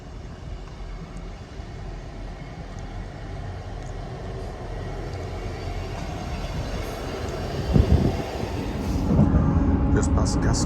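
Passenger train on the Halifax–Hull line near Selby and Gascoigne Wood Junction, a steady low rumble throughout that swells with a louder rush and clatter toward the end, with a person talking over it.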